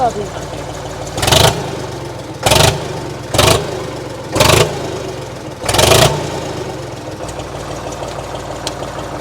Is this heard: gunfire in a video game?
no